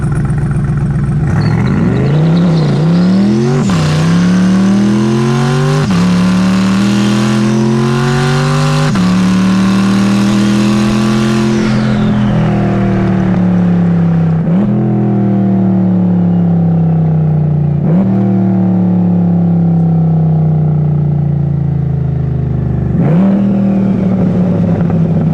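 Twin turbo C8 Corvette launching hard and accelerating, its engine note climbing loudly through a string of gears with sharp drops at each shift, close and aggressive throughout.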